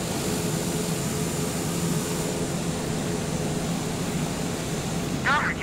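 A light aircraft taxis toward general aviation parking in Microsoft Flight Simulator 2020, its engine holding a steady, continuous drone with a faint whine and no change in pace.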